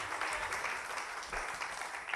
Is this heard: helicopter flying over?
no